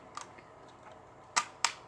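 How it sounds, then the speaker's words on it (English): A Polaroid 250 pack-film camera fires its shutter with two sharp, close mechanical clicks spaced about a quarter second apart, heard over a faint quiet background. "Now, if you listen, I'm going to fire it. Did you hear the 2 clicks?"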